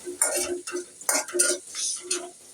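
Rice being fried in a home pan at night alongside eggs, heard as repeated scraping and stirring strokes of a utensil against metal with light sizzle, close and moderately loud, with short pauses between strokes.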